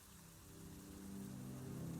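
Steady rain falling, a soft continuous hiss of drops on surfaces that swells slightly, heard alone without speech.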